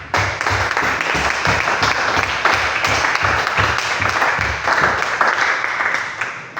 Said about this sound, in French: Acclamons très fort ces paroles.